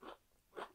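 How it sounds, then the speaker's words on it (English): Two quiet bites crunch into baked crab dip, one at the start and another a half second later, soft and close with no talk. "I know you hear the crunch."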